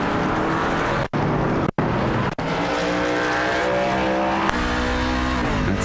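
A NASCAR truck in a racing video game set at Daytona International Speedway roars loudly at close range, its engine note shifting as it brakes hard into a turn, with brief tire squeal and a few sharp cuts in the sound.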